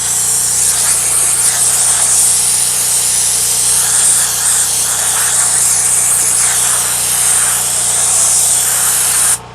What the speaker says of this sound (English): The steamer I'm using is the Causeway steamer.